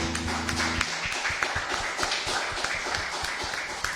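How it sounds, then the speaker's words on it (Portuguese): A church congregation claps together at a Thursday evening worship service, a loud, dense, continuous patter of many hands that holds steady from start to finish, with a few sharper slaps standing out near the front. "Uma salva de palmas para Jesus"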